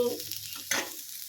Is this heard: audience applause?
no